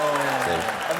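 Audience applause from a live crowd at a conversation event, a steady dense patter of clapping filling the whole moment, with a voice speaking over it.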